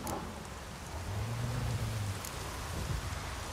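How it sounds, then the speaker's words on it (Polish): Thunderstorm with heavy rain in The Witcher 3, a steady wash of rain hiss with a low, distant thunder rumble rolling underneath, no voices. "taka ładna burza to już mi się od dawna nie udała. Widziałeś te krople? Wielkie jak grochy"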